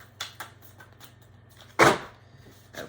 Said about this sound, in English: All right, a couple more shuffles here.